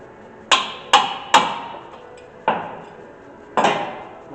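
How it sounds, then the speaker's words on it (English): A hammer strikes a metal brake part on a 2017 Nissan Rogue five times, sharp ringing taps in an uneven rhythm, close and clear with nothing else. "Couple taps with the hammer just to torque it down, tighten it up"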